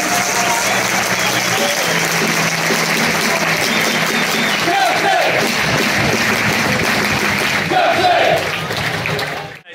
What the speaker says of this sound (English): Good round of applause for the Notts fans.